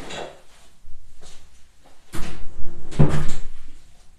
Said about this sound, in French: Alors attendez, je vais fermer la porte ici.